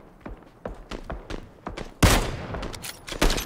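Gunfire in the battle royale game PUBG during a squad match: a steady rhythm of sharp shots that ends in a louder, denser burst of overlapping shots.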